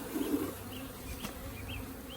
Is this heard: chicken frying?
no